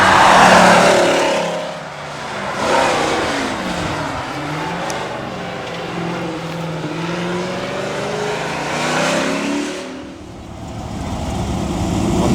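A race car climbs the hill at a Loton Park speed event in the 2004 TVRCC Speed Championship, its engine loud and close, revving hard with rising and falling pitch through gear changes.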